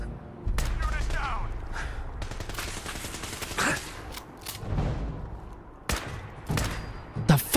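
Dense, rapid gunfire from the Fallout 4 video game, with bursts and single loud shots packed together over a steady rumble and some sharp cracks near the end.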